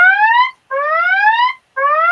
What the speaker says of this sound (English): evidently, I have set off some alarms with whatever I was saying